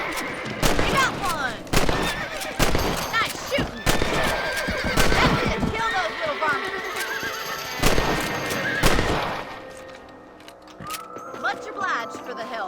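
Horses whinny and neigh repeatedly in Red Dead Redemption, mixed with sharp bursts of gunfire and hoofbeats, while voices speak over the scene.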